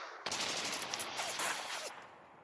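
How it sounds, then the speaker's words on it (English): A sudden blast opens a dense, rattling burst of rapid gunfire that rolls on for about two seconds, somewhat distant and muffled, in the background of a Call of Cthulhu tabletop game scene. "you hear an explosion and gunfire in the background"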